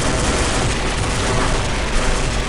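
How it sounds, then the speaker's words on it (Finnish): An explosion in a first-person shooter video game, heard as a loud, dense rumbling blast of noise that carries through the whole stretch like rolling gunfire and booms, with no speech. "räjähdys tuli kyllä"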